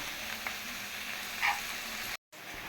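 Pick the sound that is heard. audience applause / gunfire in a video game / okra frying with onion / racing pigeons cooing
okra frying with onion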